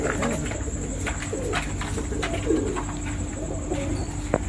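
Pigeons cooing in soft, low, rolling calls, several scattered bursts over a steady background noise with faint chirps, fairly close.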